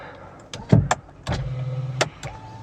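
Rear power window of a Hyundai i20 Sportz whirring down in a short motor run, framed by clicks of the switch and a few thumps inside the car.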